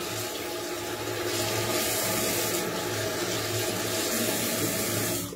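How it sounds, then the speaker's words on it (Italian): A shaving brush is rinsed under a running tap, a steady, even rush of water that stays close and constant throughout, with no voices. "Sciacquo pennello."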